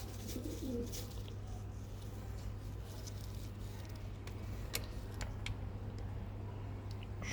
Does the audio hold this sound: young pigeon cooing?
yes